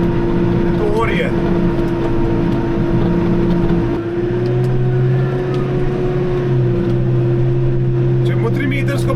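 A Hürlimann XL.K 135 tractor ploughs a field with a steady, loud engine drone and a constant humming tone throughout, while people talk over it.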